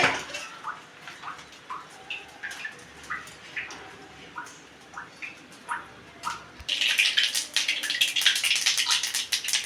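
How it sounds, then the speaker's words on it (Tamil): Mustard seeds crackle and pop in hot sesame oil in a pan, starting as scattered sharp clicks and building to a dense, steady spluttering sizzle near the end. "நல்லெண்ணெய் ஊற்றி எண்ணெய் காஞ்சி கொடுத்து இப்போ கடுகு போட்டாச்சு"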